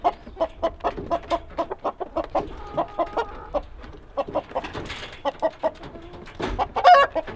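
Chickens on a homestead cluck in a rapid, steady series of short, close calls, with a louder squawk near the end and a faint rustle underneath.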